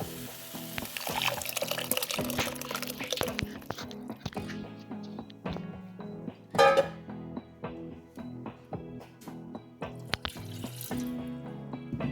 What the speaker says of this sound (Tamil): இப்போ நம்ம கரைச்சி வச்சுருக்க புளி தக்காளி கரைசலை இதில் நம்ம ஆட் பண்ணிக்கலாம்